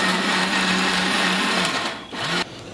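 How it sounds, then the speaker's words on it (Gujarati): A mixer grinder churning sautéed gravy ingredients for Punjabi-style chole, a loud steady high-pitched motor whir that dips briefly near the end before cutting to a lower hum. "મિક્સરના જારમાં નાખી દેવાનું અને ઢાંકી દેવાનું છે. અને હવે આને ગ્રાઇન્ડ કરી દેવાનું છે."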